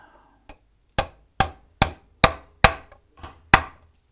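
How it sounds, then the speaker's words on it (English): Seven sharp hammer blows, spaced roughly half a second apart after a lighter first tap, seating a brass tremolo block part on a Silver Sky guitar; close, crisp metallic-wooden knocks with nothing else audible. "You want to be hammering it right over this vertical piece."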